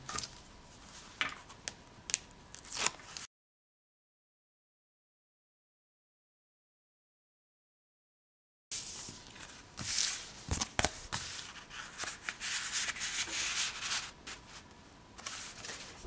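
Taped patterned paper being pressed and rubbed down onto a paper page for a DIY mini album, giving close, soft rubbing and light crinkling scrapes with small taps, a gap of silence partway through.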